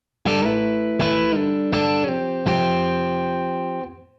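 Electric guitar plays a chord, four strummed attacks with bending slides between them, ringing out long and fading at the end, clean and alone.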